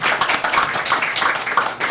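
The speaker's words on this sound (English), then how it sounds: "Thea deserves a round of applause too." An audience applauds a person being thanked, a brief burst of dense, scattered hand claps in a room, fairly close and without talk.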